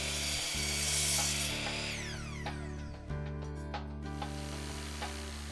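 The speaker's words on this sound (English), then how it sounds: "use a miter saw to cut the angles from the ends" A miter saw cuts angled ends on a southern pine garden bench support, giving a steady loud motor whine with a high, hissing cut, then its pitch sinks as the blade winds down and restarts.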